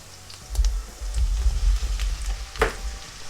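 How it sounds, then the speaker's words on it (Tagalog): Beef brisket cubes hitting a hot pan, giving a loud, crackling sizzle with sharp bursts and pops over a low frying rumble, no voices. "Now let's add our beef."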